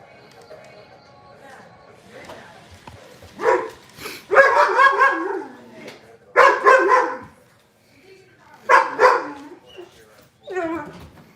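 A dog barks in several loud, close bursts spaced across the stretch, with yips and whimpering notes between them, over quiet background.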